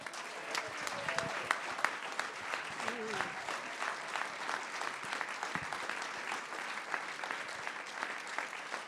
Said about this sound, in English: let's have a big round of applause for my wife